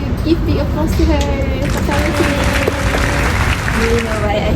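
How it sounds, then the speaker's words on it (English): Audience applause greeting a guest speaker at a university mental health talk: steady, dense clapping filling the room throughout, with crowd murmur and a voice speaking over it. "Give big applause to her."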